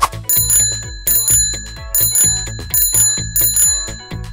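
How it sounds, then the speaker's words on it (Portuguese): Bicycle-style bell rings in quick repeated bursts of bright metallic trills over a rhythmic musical backing, several rings spaced through the passage, loud and close with no talking. "Eu ouvi a campainha e um apito."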